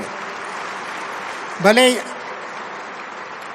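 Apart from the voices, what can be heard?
audience applause at a felicitation ceremony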